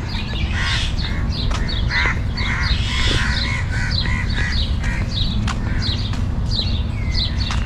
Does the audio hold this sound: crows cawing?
yes